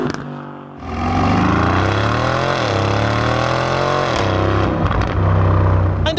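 An Aston Martin V8 Vantage F1 Edition's V8 engine revs loud and close, its pitch climbing and falling through several sweeps, easing briefly before pulling again.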